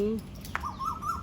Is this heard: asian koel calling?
yes